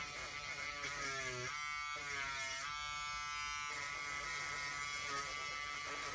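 A fully charged battery-powered electric trimmer switches on to cut embroidery threads on the back of a large embroidered pillow, giving a steady close buzz that runs the whole time with a slightly shifting whine.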